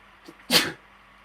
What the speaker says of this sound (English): I just feel like I sneezed some shit there.